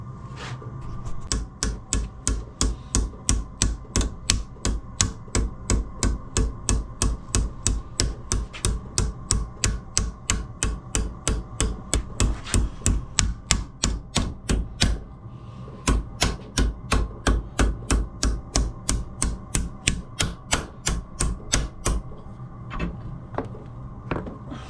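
A hammer strikes a flat metal disc being shaped into a bearing cover for a custom bike, in steady, evenly spaced blows repeated dozens of times. There is one short pause before the blows resume and then stop.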